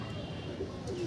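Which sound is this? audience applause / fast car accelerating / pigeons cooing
pigeons cooing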